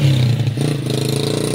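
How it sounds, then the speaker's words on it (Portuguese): A motorcycle engine runs close by on a street at a construction site in Anápolis, a steady mid-pitched drone with a faint revving rise, loud and continuous through the short stretch. "Esperar essa moto passar aqui."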